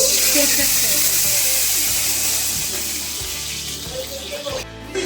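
Crispy lentil fritters (bora) frying in oil, a loud continuous sizzle with a soft rhythmic bubbling underneath that eases slightly toward the end.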